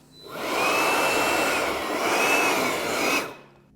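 Compressed air blasting rocks out of a hole in the wheel well of a Corvette Z06, a loud steady hiss-roar lasting about three seconds with a faint whistle riding on top, then cutting off.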